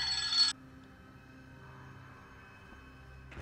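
A telephone rings briefly and loudly with a mother's call, a half-second electronic trill that stops abruptly, followed by quiet background hum during an online game match.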